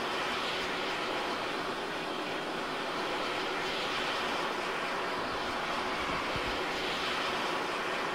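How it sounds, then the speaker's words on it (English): A helicopter flies overhead in the video game Arma 3, its engine and rotor a dense, steady, loud roar that holds without a break. "there's a fucking helicopter flying above us"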